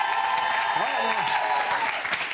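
Studio audience applause on a French TV quiz show, a steady wash of clapping that continues throughout under a voice speaking over it.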